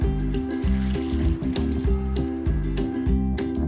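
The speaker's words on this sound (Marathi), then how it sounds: "आणि ह्याच्यामध्ये पाणी घालून कुकरला लावते" Water poured from close by into a pressure cooker holding toor dal and fenugreek leaves, a steady filling splash with a rhythmic gurgle running through the whole stretch, no voices.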